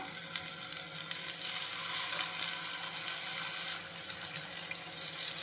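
Coconut oil hisses in a pan as fish is fried for Kerala-style fish molly, a steady close sizzle with a watery crackle that swells slightly toward the end, no talk.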